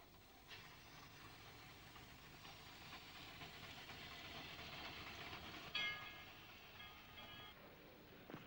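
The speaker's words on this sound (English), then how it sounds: "The line's steam power consists of 7 outside-framed Baldwin 280s" Outside-framed Baldwin 2-8-0 steam locomotive working a Cuban railway line, a steady rumbling rush and hiss of the passing train at a distance, with faint metallic squeals, no voices.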